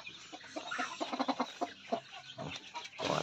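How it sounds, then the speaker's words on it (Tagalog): A rooster and chickens clucking close by in a series of short, choppy calls, with a busier burst of farmyard noise at the end. "inahabol ng ating roaster"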